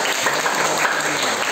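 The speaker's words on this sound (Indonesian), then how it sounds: "Tepuk tangan semua." A class of students in a college lecture applauds, a dense, steady round of clapping that fills the whole moment, close and loud, with no talking over it.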